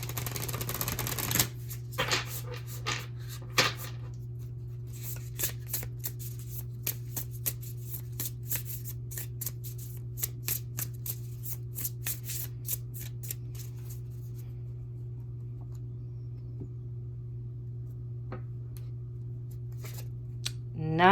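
Deck of tarot cards shuffled by hand, a quick run of soft riffling clicks and flutters over a low steady hum, faint and close, fading into sparse taps toward the end.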